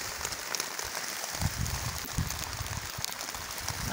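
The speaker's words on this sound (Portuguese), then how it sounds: "parei na rua aqui, chovendo um pouquinho" Light rain falls outdoors on a street, a soft steady hiss with scattered patters and drips close by, without talk.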